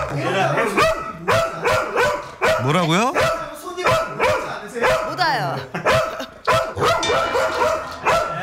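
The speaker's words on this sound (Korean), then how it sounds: "짖는 녀석을 말려보는 보호자" A Sapsali dog barks excitedly at home as strangers come in: loud, close, rapid barks and yips follow one another, while a person speaks briefly over them.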